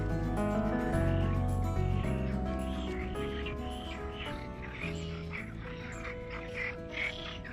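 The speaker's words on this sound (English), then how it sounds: "Definitely frogs." A chorus of frogs croaks steadily beside a walking route on the Camino Portuguese near Vila do Conde, Portugal. The calls are soft, continuous and layered in the distance, with faint voices now and then.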